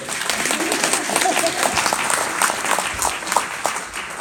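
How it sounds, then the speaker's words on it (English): An audience applauds during a speech, a short, fairly dense burst of clapping with some voices mixed in, tapering slightly toward the end. "Okay, that was a good applause."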